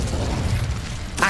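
Incendio fire spell cast in Hogwarts Legacy, heard as a steady rushing whoosh that ends in a short, brighter burst, all at moderate loudness.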